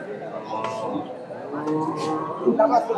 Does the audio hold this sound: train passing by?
no